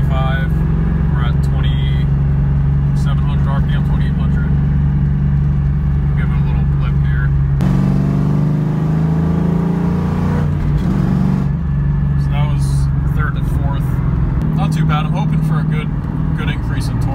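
A New Edge Mustang with torque upgrades pulls hard in third gear at around 45 mph, its engine drone loud and steady from inside the car, rising and shifting in pitch as it accelerates.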